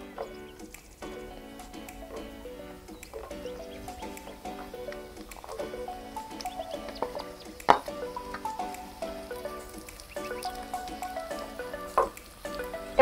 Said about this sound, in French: on fait fondre 40 g de beurre et on ajoute les échalotes